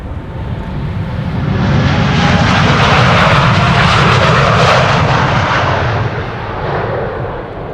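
A Boeing 787 Dreamliner roars past close by at Schiphol Airport, a loud broad rushing engine noise that swells and slowly fades, with wind buffeting throughout.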